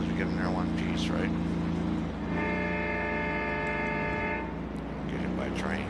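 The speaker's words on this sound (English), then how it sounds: "Get hit by a train." A train sounds its horn in a sustained, steady blast held for a couple of seconds while a continuous rumble and background voices run underneath.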